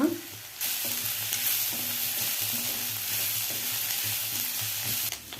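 Pre-fried peanuts being stirred into avalakki chitranna (flattened rice) with turmeric in a frying pan; a steady close sizzle carries repeated scraping stir strokes throughout, with no voices.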